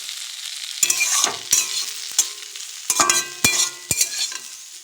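Potato and cauliflower fry in a pan for a home curry, a quiet sizzle underneath sharp, intermittent scrapes of a spatula against the metal, each stroke close and distinct.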